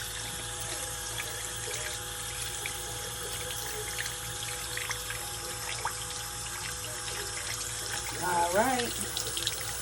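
A bathroom tap runs steadily to rinse a children's U-shaped electric toothbrush, a constant hiss of flowing water with brief splashing near the end and a few quiet spoken words.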